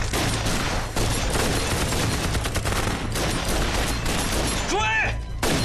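Gunfire in a kung fu movie battle scene: dense, rapid bursts of shots crackling continuously over a rumbling background, with a whistling, sweeping effect near the end.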